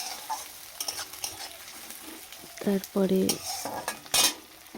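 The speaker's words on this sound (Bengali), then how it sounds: "পেঁয়াজ আর লঙ্কা ভালোভাবে ভাজা হয়ে গেলে" Onions and green chilies frying in a pan while being stirred with a utensil, giving scraping stirs with a soft sizzle underneath in a quiet home kitchen, close and moderately loud, with one brief spoken word.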